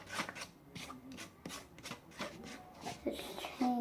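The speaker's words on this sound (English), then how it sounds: "Gonna mix this one like all the way." Clear slime being stirred and mixed by hand, giving soft irregular rubbing and squishing scrapes close up, with brief quiet pauses between strokes.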